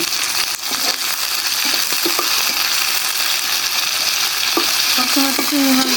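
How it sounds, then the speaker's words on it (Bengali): Hilsa fish heads cook with light spices in a hot pan, giving a loud, steady sizzle with occasional scraping stirs close by and no voices. "এখন আবার মাথা দিয়ে একটু হালকা মশলা দিয়ে একটু রান্না করি"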